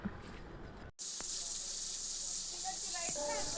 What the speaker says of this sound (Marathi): मटणाचा कुकर लावला होता चुलीवरच तर त्याच्या शिट्ट्या होत आहेत